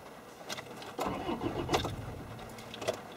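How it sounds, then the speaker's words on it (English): An old diesel car is started, the starter cranking briefly before the engine catches into a rough, rattly idle close by. "next thing, I'll start the car"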